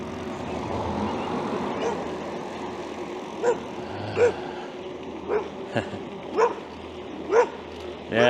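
A dog barks repeatedly at a distance in a suburban neighborhood, six or seven sharp yips spaced about a second apart over steady outdoor traffic and wind noise.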